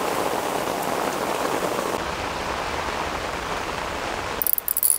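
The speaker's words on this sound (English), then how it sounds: "This is some good rain right here." Heavy rain pours steadily onto a lake around a fishing boat, a dense continuous hiss that holds even and loud before cutting off abruptly near the end.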